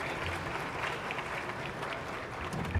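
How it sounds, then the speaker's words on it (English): Dense, sustained applause from a large audience at an international economic forum for Latin America and the Caribbean fills the hall evenly throughout. "Please, a round of applause for him."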